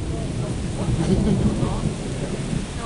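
Thunder from the first storm of a 2012 trip on the Drawa river rolls as a low, sustained rumble that swells midway, over a constant wash of rain and wind.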